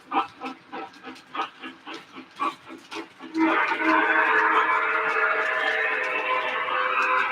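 A steady, loud whistle-like tone with harmonic layers starts midway and holds to the end, following a series of rhythmic pulsing sounds.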